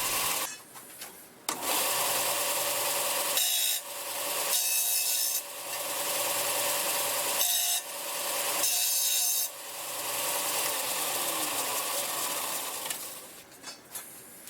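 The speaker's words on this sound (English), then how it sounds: "Flattening out the end and then chamfering." A brass part's end is filed flat and then chamfered by hand, giving steady rasping strokes in several long bursts separated by short pauses, close and fairly loud.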